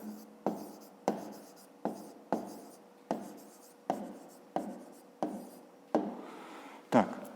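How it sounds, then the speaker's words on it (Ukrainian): A pen writes a maths answer on paper in about ten close, distinct rhythmic strokes, each a short scratch that fades quickly, with no voices. "Отже, записуємо тоді відповідь"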